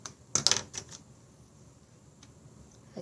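Scissors snip through long hair during a layered haircut, a tight cluster of sharp close cuts early on, then a lone fainter snip later in near silence.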